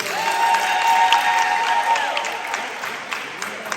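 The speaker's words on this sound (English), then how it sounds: "So one more big round of applause for our administration and our coaches." An audience applauds and cheers at a school sports awards banquet, sustained clapping with a few whoops and a faint tonal whistle, gradually thinning toward the end.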